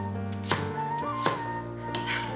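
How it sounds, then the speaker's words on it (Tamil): A knife chops an apple for juice in a home kitchen with three distinct, evenly spaced, faint thuds. A steady low background hum continues underneath. "நம்ம ஜூஸுக்கு ஆப்பிளை வந்து நறுக்கி வச்சிடலாம்."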